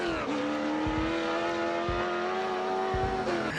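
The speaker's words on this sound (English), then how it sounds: "I just keep on driving just because of the sound of the car" A 1967 Camaro SS on the road, its engine droning steadily and close with a constant, rich tone as it cruises, rising slightly near the end.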